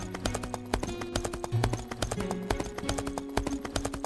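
Horse hooves clip-clop in a steady trotting rhythm, loud and close, over a sustained musical background with no speech.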